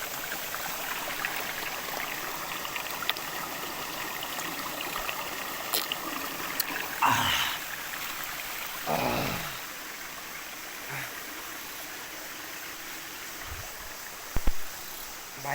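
Water in a small mountain stream flows with a steady, soft rush and trickle, fairly faint and continuous, with a few brief splashes and handling noises near the end.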